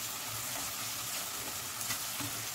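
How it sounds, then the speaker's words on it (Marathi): A paste of ginger, garlic and coriander fries in a pan over medium-low heat for potato pulao. It gives a soft, continuous sizzle with occasional light stirring, heard quietly and up close with no talking. "याला आपण फ्राय करून घेऊ 2 मिनिट"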